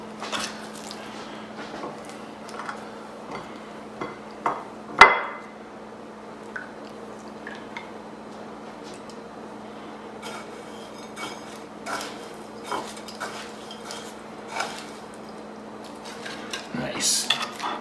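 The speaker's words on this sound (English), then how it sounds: "gently dust on the flour, do the egg wash, and into the breadcrumbs" Chicken pieces breaded by hand in the kitchen for chicken parmigiana, dusted with flour, dipped in egg wash and pressed into breadcrumbs, giving soft scattered taps, wet squishes and occasional clinks of dishes against a quiet hum.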